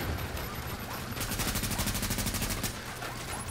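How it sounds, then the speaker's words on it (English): Automatic gunfire from the video game Tom Clancy's The Division, a rapid burst of shots fired at a turret in the middle, fairly faint beneath continuous game background noise. "He's just shooting a turret."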